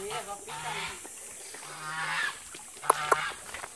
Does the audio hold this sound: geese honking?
yes